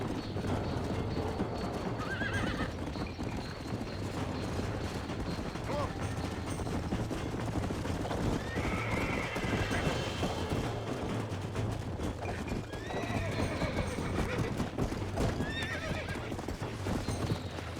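Horses gallop with steady clip-clop hoofbeats and repeated neighs in the Red Dead Redemption video game, loud and continuous across the whole stretch, with game sound effects mixed in.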